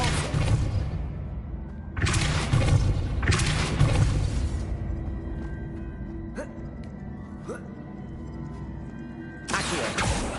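Depulso spell cast in Hogwarts Legacy on PS5: a few sharp blasts, one at about two seconds, another just after, and a third near the end, each with a whooshing rush over a steady game ambience.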